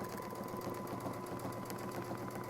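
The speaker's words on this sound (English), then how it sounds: "I think we'll take one stitch up just to make sure we don't cut into anybody." A sewing machine runs steadily, stitching a circle in a butterfly sewing project, with a continuous close-up motor whir and needle rattle and no talk.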